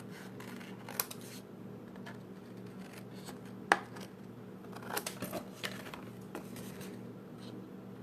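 Scissors cutting corners off black paper: faint, sparse snips and small paper rustles over low room hum, with a few sharper clicks scattered through.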